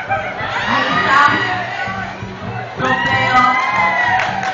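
An audience at a Miss Gay pageant's festival-wear segment shouts and cheers as one crowd. The roar is loud and sustained, rises in two swells, and carries whoops and a few voices over a low rumble.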